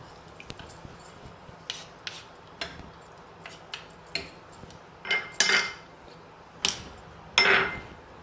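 Millet and rice being stirred in a pressure cooker pot for a millet pulao, heard as scattered metallic scrapes and clinks of a spoon against the pot, several sharper knocks toward the end, close and moderately loud with no talking.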